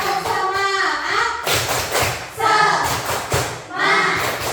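Children clap hands in unison in a rhythmic classroom cheer, sharp clustered claps in repeated patterns mixed with young voices chanting.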